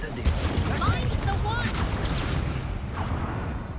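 A fire spell goes off in the video game Hogwarts Legacy, a dense roaring crackle with booming bursts layered over music and effects, loud and continuous throughout.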